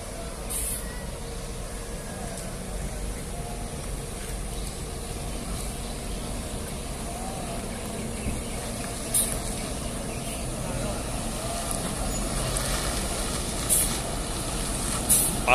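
Passing buses in a fast convoy rumble in steady low road noise, with brief sharp air-brake or horn bursts near the start, the middle and the end.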